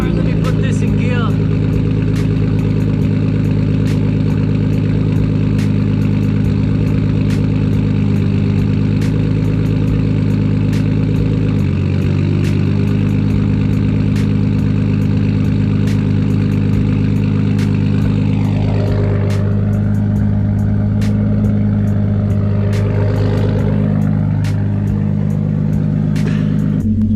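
A 400HP Nissan Skyline with an RB25DET engine runs steadily at a loud, close idle with a rough low drone, then the note dips and wavers near the end as it is put in gear; speech is present over the engine.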